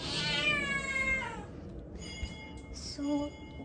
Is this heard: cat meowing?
yes